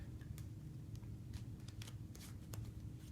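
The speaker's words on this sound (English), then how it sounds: "The next shuffle we're going to be getting into is called a Faro Shuffle." A deck of playing cards riffled together in a Faro shuffle, a run of quiet, sharp card clicks and brief flutters over a soft low background hum, with no talking.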